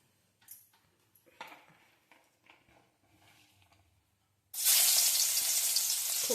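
Hot oil sizzles loudly in a pan on a gas stove, a sudden steady hiss that bursts in after a few quiet clicks and small kitchen knocks.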